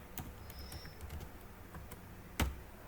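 Light, irregular keystrokes on a computer keyboard continue throughout, capped by one louder key strike near the end, all fairly close and quiet with no speech.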